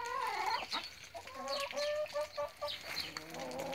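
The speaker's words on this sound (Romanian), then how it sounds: "Aici sunt găinile, o parte din ele, câteva au sărit peste gard." Chickens cluck and squawk in a farmyard pen, several birds calling close by in overlapping bursts with higher squawks, no talk over them.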